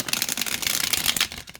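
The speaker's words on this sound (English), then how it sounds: "And it shuffles really nice." A tarot card deck being shuffled by hand, a continuous papery riffling and flapping of cards close up that runs for over a second before trailing off, with no talking.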